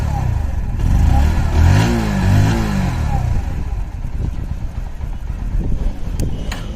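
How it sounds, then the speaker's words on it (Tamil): A Bajaj Pulsar NS 125 motorcycle engine revs up and back down loudly nearby, then settles into a rumbling, slightly uneven idle exhaust note. "நல்ல ஒரு ஸ்மூத்தான எக்ஸாஸ்ட் சவுண்டு தான் இந்த பைக்கில் கிடைக்குது"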